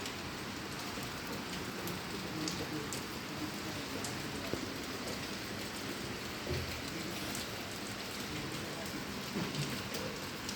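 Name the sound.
moderate rain falling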